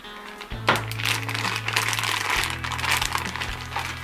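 Plastic packaging crinkles and crackles up close as a RAM Mount motorcycle GPS bracket is unwrapped, with bursts of rustling over a low steady hum.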